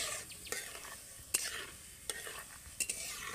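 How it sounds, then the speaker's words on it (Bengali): Ajwain seeds being stirred and fried in hot oil for a raw mango pickle. A faint, soft sizzle runs underneath a few sharp scrapes and clinks of the stirring spoon, with no talking. "এবার আমি এগুলোকে প্রথমে তেলের সাথে ভালো করে একটু ভেজে নেব।"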